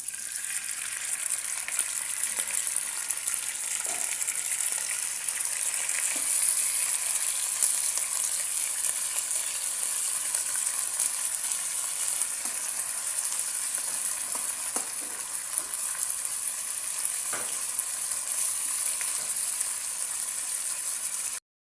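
Pork frying in a pan with garlic and onion, a steady loud sizzle throughout with occasional soft stirring scrapes.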